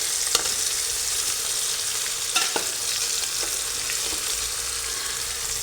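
Chicken coated in masala fries in a pan with a continuous close hissing sizzle, broken by a few soft knocks and scrapes as the pieces are turned.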